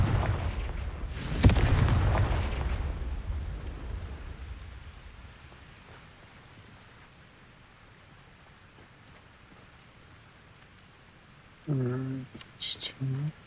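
A Confringo spell goes off in a wizard video game with a sharp explosive crack followed by a rumbling decay that slowly fades, and a voice talks briefly near the end.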